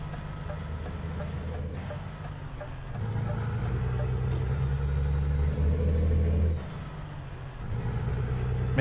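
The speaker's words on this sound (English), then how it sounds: "this truck sounds really good" A truck engine rumbles low and steady while driving in Euro Truck Simulator 2, swelling louder partway through with a few faint clicks over the drone.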